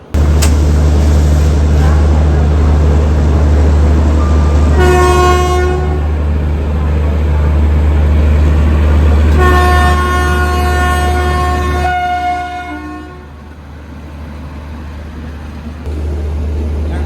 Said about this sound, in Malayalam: ഇത് ബറൗണിന്ന് ബാന്ദ്ര ടെർമിനസിലേക്ക് പോകുന്നൊരു എക്സ്പ്രസ് ആണ്